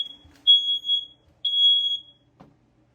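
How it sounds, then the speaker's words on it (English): A smoke alarm, set off by bacon frying, emits two shrill high-pitched beeps close by, with a faint rustle at the end. "I shouldn't be setting off the smoke alarm."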